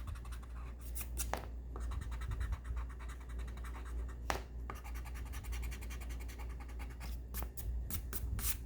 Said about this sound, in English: Erase the connecting lines between these two areas.